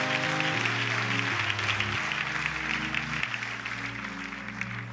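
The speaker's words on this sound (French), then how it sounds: "Applaudis l'ensemble aussi." Congregation applauding during a church service, a sustained wash of clapping alongside held organ or keyboard chords that shift several times, with faint voices in the room.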